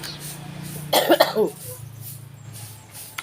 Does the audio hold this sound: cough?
yes